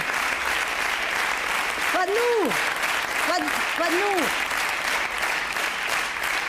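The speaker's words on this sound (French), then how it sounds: "les gens comme ils applaudissent" Audience applauding at a live comedy show, sustained crowd clapping throughout while someone speaks briefly over it with a few rising and falling vocal exclamations.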